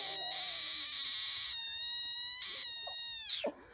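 A frog croaks in loud, buzzing trilled bursts repeated several times close by outdoors, followed by a couple of short squeaky calls, with no voices.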